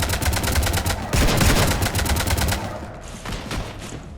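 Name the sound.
gunfire in Mass Effect 3 video game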